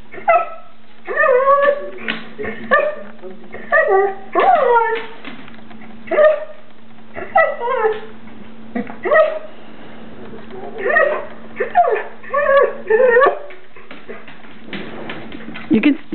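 Dogs on a screen give repeated short yips and whimpering cries in bursts, fairly close, with a steady low hum underneath and brief pauses between bouts.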